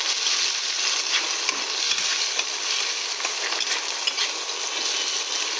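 Chopped tomatoes sizzle and fry steadily in a hot pan of oil for an Indian fish curry with potato and pointed gourd, a continuous close crackle with faint stirring and no talk.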